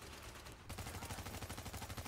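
Rapid automatic gunfire from The Division video game, a loud sustained burst of closely spaced shots firing in steady rhythm, with a brief muffled pause before the volley resumes.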